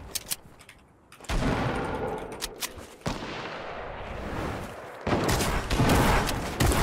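Rapid bursts of gunfire in a Fortnite match, loud and close, with dense overlapping shots in several clusters separated by brief lulls.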